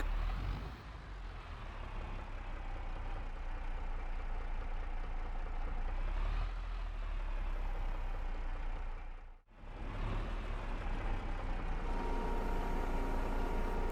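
Steady, loud tractor engine drone in Farming Simulator 22 on the No Man's Land map, from a tractor overdue for a service. It runs continuously with a slight shift in pitch midway and a brief dip near the end.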